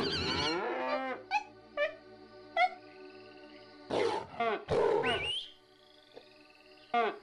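A cow creature in Black & White moos in long, drawn-out low calls, close and clear, with shorter animal calls and chimes in between and quiet spells.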